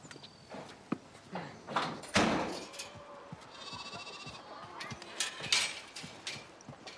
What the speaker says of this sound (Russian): Только это другая коза.